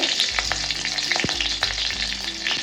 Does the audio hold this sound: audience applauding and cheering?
no